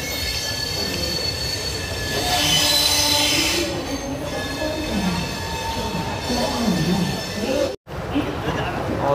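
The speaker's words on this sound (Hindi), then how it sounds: "ये ट्रेन अब अराइव कर रही है न्यू दिल्ली रेलवे स्टेशन" Hoshiarpur-Agra Cantt Express pulling into New Delhi railway station, wheels squealing loudly and steadily over rumbling carriages heard from onboard, with a person talking over the noise and a brief dropout near the end.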